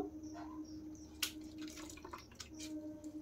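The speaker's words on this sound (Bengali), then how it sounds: "জল থেকে এইরকম ভাবে চিপে চিপে কিন্তু তুলে নিতে হবে আলুগুলো" Washed potatoes are squeezed by hand and lifted out of a bowl of water, giving soft, faint drips and light splashes close by in a quiet kitchen.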